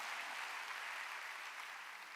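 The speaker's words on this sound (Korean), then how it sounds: "박수." A church congregation applauding during a sermon: a sustained wash of many hands clapping at once, steady and fairly distant, fading slightly toward the end, with no speech over it.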